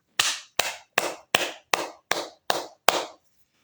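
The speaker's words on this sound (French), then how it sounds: "Est-ce qu'il y a quelqu'un qui peut applaudir pour la gloire de Jésus-Christ?" Eight slow, evenly spaced hand claps at an evening church gathering, each one sharp, close and loud, separated by short silences.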